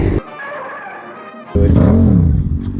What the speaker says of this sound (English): it's such a, like a comically ridiculous tire screech